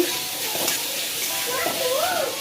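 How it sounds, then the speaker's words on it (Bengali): Grated sour mango stirred through hot oil in a pan over low heat, giving a soft steady sizzle with faint spoon-scraping, close and continuous, as a fish curry with mango begins. "তেলের মধ্যে দিয়ে দিলাম। আমটা নেড়ে নিচ্ছি"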